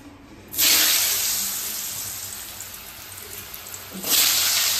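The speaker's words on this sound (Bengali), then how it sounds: "এখন আমি আলুগুলো আগে ভেজে তুলে নেবো" Potatoes hit hot oil in a pan with a sudden loud, close hiss that slowly eases into a steady sizzle, then flares up again as another batch goes in near the end.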